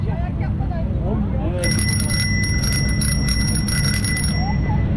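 A bicycle bell rings in a quick, sustained trill for a few seconds over steady outdoor background noise.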